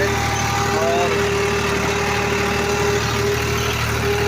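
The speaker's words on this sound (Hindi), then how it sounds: "अब देखिए, ये ट्रैक्टर हमारा चल रहा है" A tractor engine runs steadily at close range, a continuous low mechanical drone with a constant hum and no breaks, while a voice talks over it.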